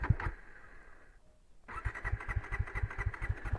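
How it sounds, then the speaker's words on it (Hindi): A Bajaj Dominar 400 motorcycle being started in freezing, snowy weather on a high-altitude Ladakh road: a brief crank and a short pause, then the engine catches into a close, rhythmic, throbbing idle. "अब सोचो ऐसे टेरेन में बाइक स्टार्ट ही ना हो तो।"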